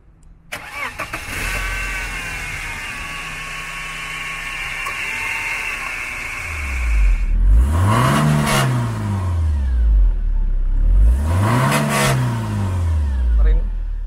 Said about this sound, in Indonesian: Selanjutnya kita dengarkan bagaimana starter mobil ini.